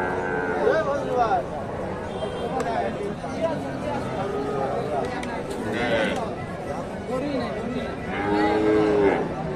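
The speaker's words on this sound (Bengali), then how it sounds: "এই যে গাভীটা দেশি গাভী।" Native cows and calves at a busy cattle market in Bogura, with several loud nearby moos rising out of steady crowd chatter and people talking close by.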